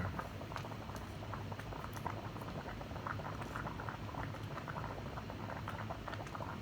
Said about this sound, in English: Can you hear the water boiling?